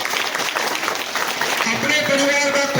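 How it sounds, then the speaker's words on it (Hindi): Loud applause from an audience at a school program for National Girl Child Day, sustained clapping with a voice and some tonal sound emerging toward the end. "इनके लिए जोरदार ताली बजा भाई।"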